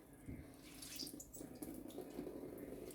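Water running and splashing from rinsed chopped onions being squeezed over a dish, a steady close trickle with small splashy bursts throughout.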